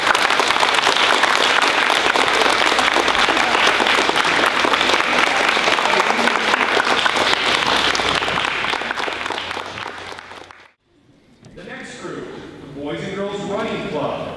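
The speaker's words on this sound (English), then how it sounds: "Everybody, please a round of applause for the students." Sustained applause for fifth-grade students at a school recognition day, a dense, loud wash of many hands for about ten seconds, fading out into a brief lull before voices and scattered sound resume.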